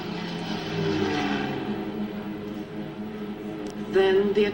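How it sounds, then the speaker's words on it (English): Propeller aircraft take off from carriers, a steady droning engine hum with a rising whine and roar near the end, loud and fairly close. "Nagumo turned his carriers into the wind and launched his planes."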